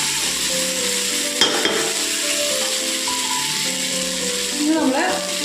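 Chicken peralan, a Kerala-style chicken fry, sizzles in a pan while a spoon stirs it, giving a steady frying hiss with a few scraping stirs and clinks up close.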